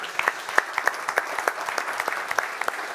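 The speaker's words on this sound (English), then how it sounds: "Oh, challenge, yeah, a round of applause," A small audience at a motor rally launch event applauds, a light, uneven clatter of separate hand claps at moderate distance, steady for a few seconds with no talk on top.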